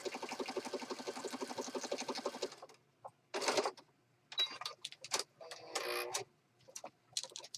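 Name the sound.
machine stitching around a journal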